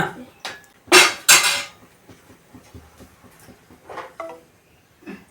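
Metal utensil scraping and clanking in a cooking pot while fish curry is stirred, with two loud scrapes early then softer knocks, with a voice faintly speaking in between.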